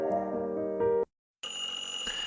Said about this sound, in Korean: 평소에는 고요하기 그지없는 전화벨이 울렸다.